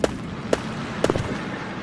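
Tank cannon shots in a video game, three to four sharp booming bursts spaced about half a second apart, loud and alone with no voices.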